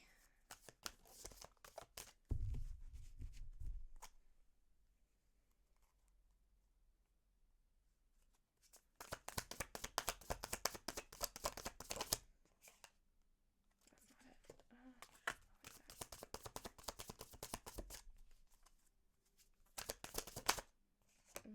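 Tarot cards are shuffled close by in long rapid riffling bursts separated by quiet pauses, with faint talk in between.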